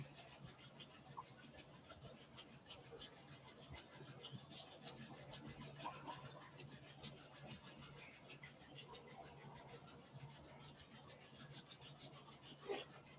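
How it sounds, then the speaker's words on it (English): Palms rubbing together in a steady, continuous friction swish, soft and close, holding evenly for several seconds with a slight swell near the end. "let's just rub the hands again"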